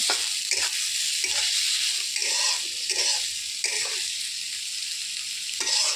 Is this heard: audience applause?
no